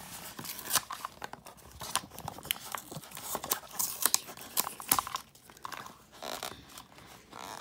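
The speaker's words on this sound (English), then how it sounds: "Use the scissors to open the package." Scissors snip open a Minecraft and squishy toy package, giving a quiet, close series of crisp cuts mixed with crinkling plastic, with no talking.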